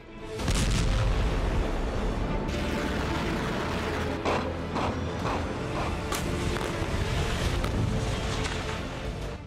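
Artillery cannons firing at a front line in winter alongside tanks, heavy booming blasts over a dense, rumbling background, with several sharp reports standing out near and loud, no speech.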